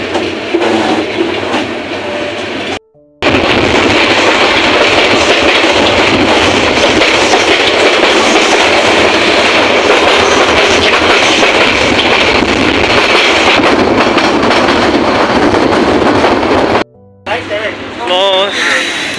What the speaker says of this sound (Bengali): তো 12 মিনিট বিলম্বের তারিখে তন্না এক্সপ্রেস ফেনী স্টেশন থেকে চট্টগ্রামের জন্য রওনা দিচ্ছে